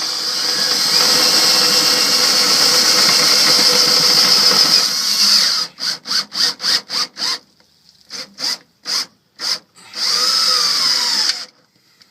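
A power drill driving screws to mount an Air Lift WirelessONE air suspension pump on a vehicle: a loud sustained whine, then a run of short rapid bursts, a pause, and one more long run, close up and with no talking.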